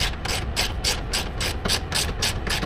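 A socket ratchet clicks in a fast, even rhythm of about a dozen crisp pawl clicks, close and clear, while tightening a rear sway bar on an FL5 Civic Type R.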